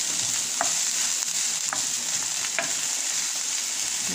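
Red onion sautéing in oil in a pan for ampalaya with ground beef and tomato sauce: a steady, moderate sizzle with a few light utensil clicks from stirring.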